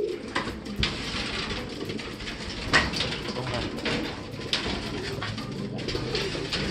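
A racing pigeon returning to its loft during a super sprint race, with steady cooing and bird calls close by over a busy, noisy background.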